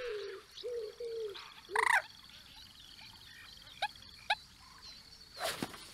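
Birdsong from the wildlife video game Alba: A Wildlife Adventure: a series of soft, hooting coos, then a louder warbling call, followed by a few short, sharp chirps and a final bright burst, with no talking.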